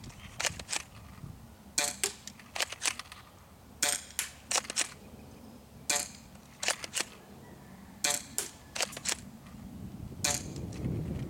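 An A&K 870 spring airsoft shotgun is fired at targets about 30 feet away, sharp snapping shots coming in quick pairs and clusters with short gaps between, near and fairly loud.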